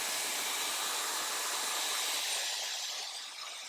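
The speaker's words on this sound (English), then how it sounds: "I'm going to take my blow dryer on a cool setting and just dry it slightly." A blow dryer on its cool setting blasts steadily at close range while drying the lace of a wig, a loud, even airy roar that holds for several seconds before tapering slightly at the end, with no talking.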